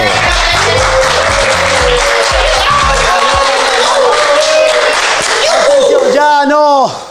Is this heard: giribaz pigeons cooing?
no